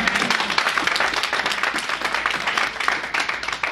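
A church congregation applauds with dense, steady clapping that carries loud and even through the whole moment, with no voices rising above it.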